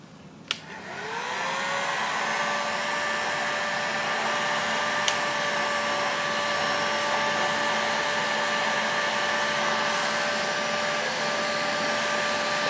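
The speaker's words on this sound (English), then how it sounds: "I'm going to hit it with the heat gun and see what happens" A heat gun runs steadily from a quick start-up, blowing hot air onto the cylinder of an OS FF-320 Pegasus model engine, a constant close whirring hiss with a faint tonal whine and no speech.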